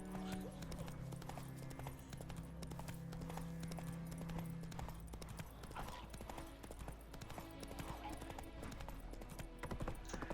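Horse hooves trot in the video game The Witcher 3, a steady clip-clop rhythm under game music and ambience, with a spoken voice briefly over it.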